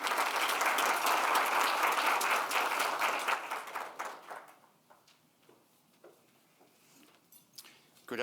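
Audience applause welcoming an ambassador onto a platform at a formal event: dense clapping for about four seconds, then thinning to scattered claps and room noise.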